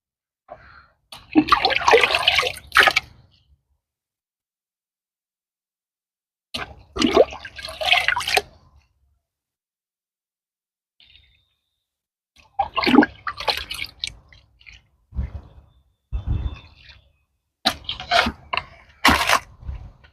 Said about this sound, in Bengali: এরকম জল দিয়ে আস্তে করে জল দিয়ে ভিজে দেবেন